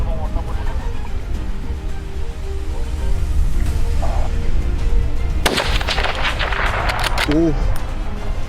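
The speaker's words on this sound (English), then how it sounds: "The team opened fire together." Hunters fire a volley of guns at wild boars on a farm, with sharp reports bursting out amid ongoing talk, loud and close.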